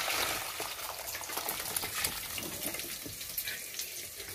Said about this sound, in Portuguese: Aproveitar e já vou escorrer também a mandioca aqui. Vou escorrer aqui nesse escorredorzinho meu.